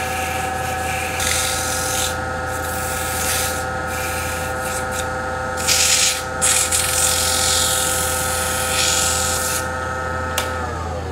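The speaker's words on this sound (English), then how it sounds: "And I'll sand that now while I'm thinking about it." A wooden sea urchin ornament being sanded, giving a steady close rubbing and scraping sound with a constant motor hum underneath and brief louder bursts partway through, with no talking.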